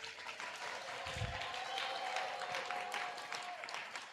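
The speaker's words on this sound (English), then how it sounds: "That deserves a round of applause." Audience applause at a medical school induction and awards ceremony, a steady wash of clapping from a crowd, moderately distant and even throughout.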